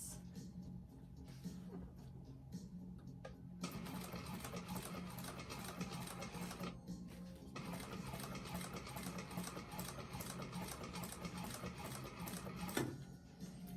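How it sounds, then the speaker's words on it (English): A sewing machine runs in bursts of rapid, even stitching while sewing a bag, with brief pauses between runs and a short back-stitch, close and clear without talk. "do a slight back stitch, lock those in place"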